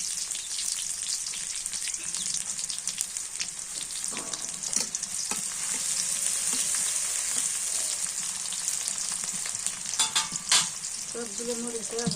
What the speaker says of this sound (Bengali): ভেন্ডি আর আলু ভাজি